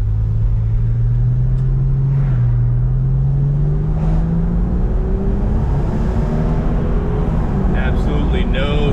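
A Porsche 911 (996) with Tiptronic automatic gearbox driven with the top down, a loud engine drone rising through the gears with heavy wind and road rumble, a voice talking over it.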